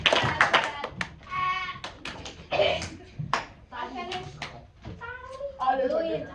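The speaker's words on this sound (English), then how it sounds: "Clap twice if you can hear me" Students in a classroom clap, sharp scattered claps near the start and later, mixed with children's chatter and laughter over the top.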